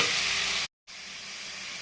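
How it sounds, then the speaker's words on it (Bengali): Chilies and onions frying in hot oil for a spinach and small tengra fish curry, a steady close broadband sizzle that cuts out for a split second, then resumes slightly softer. "তা ঝাল আর পেঁয়াজ ভেজে নিচ্ছি।"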